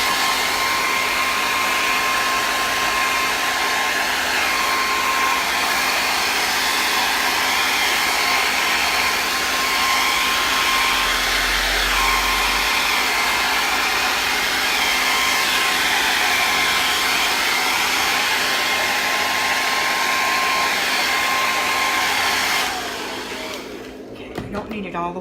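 A hair dryer blows loudly and steadily at close range for about twenty-two seconds over wet paint on a canvas, then switches off, leaving only faint handling sounds.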